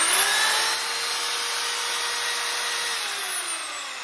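A Ryobi 800W three-function drill runs in plain drilling mode, giving a steady, loud motor whine throughout whose pitch sags slightly near the end, with no voices.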